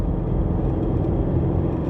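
A car engine's resonator sound is heard from inside the cabin, a steady low droning rumble with a faint vibrating whir throughout, fairly loud and without talk.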